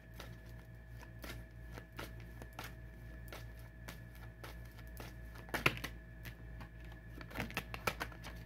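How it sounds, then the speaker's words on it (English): Tarot cards are shuffled repeatedly, with a steady run of soft riffling flicks and a few sharper slaps, close and quiet over a low hum. "I can feel it when I'm shuffling the cards"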